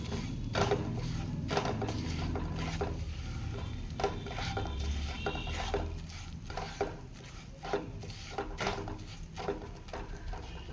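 Masala spice powders roasting in oil in a pan for prawn gravy, with a spoon stirring and scraping in steady, repeated strokes over a continuous low sizzle; no talking.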